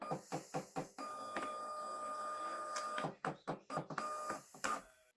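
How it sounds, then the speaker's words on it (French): A Zebra label printer runs its calibration, feeding labels with a series of short mechanical clicks and whirs, a steady motor drone in between, and rapid bursts of advancing stops at the end. "Nous allons maintenant calibrer l'imprimante."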